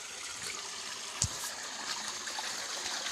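A stream of flowing water, a faint, steady rushing trickle with one brief knock partway through.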